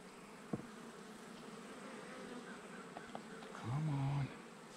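Honeybees buzz around an open beehive on a Missouri farm, a faint, steady hum with a louder, closer buzz passing near the end.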